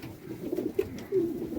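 Pigeons coo softly in a wooden loft shed, low throaty rolling calls in a few short bursts, close by and fairly quiet, with no talking.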